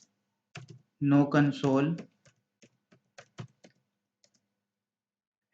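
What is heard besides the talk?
typing on a computer keyboard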